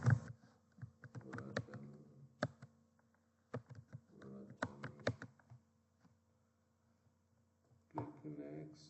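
Someone types on a computer keyboard in short bursts of quick, close clicking keystrokes separated by pauses, while someone talks quietly over parts of it.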